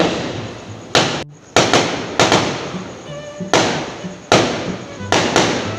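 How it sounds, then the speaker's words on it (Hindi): Several sharp, loud bangs go off in irregular bursts, one after another, like firecrackers popping outdoors nearby after dark. "ये पटाखे की आवाज़ थी"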